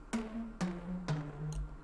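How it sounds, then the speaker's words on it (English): A synth pluck from a music track plays three evenly spaced bright notes, each with a sharp attack and short decaying tail, clear and close with no voices. "It's like this pluck."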